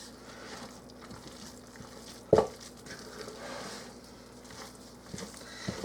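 No-knead dinner roll dough is stirred in a bowl, giving soft, sticky, irregular mixing sounds with one sharp knock of the utensil against the bowl.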